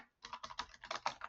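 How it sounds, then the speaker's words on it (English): Rapid typing on a computer keyboard, a quick run of soft, close key clicks with no talking. "So let me type this out for you so you don't have to watch me type."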